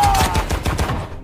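A rapid burst of loud, sharp gunshots fires in quick succession, close and punchy, tailing off after about a second.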